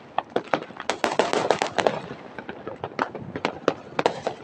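New Year fireworks exploding in a dense, continuous barrage of sharp cracks and bangs, some close and loud, others farther off, with no voices in between.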